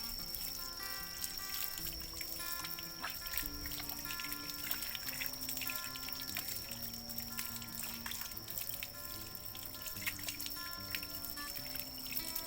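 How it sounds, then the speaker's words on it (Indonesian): Running water pours and trickles steadily as hands are rinsed clean after soap handwashing, heard faintly under music with a constant high tone, with no talking. "Setelah itu kita bilas dengan air yang mengalir sampai benar-benar bersih."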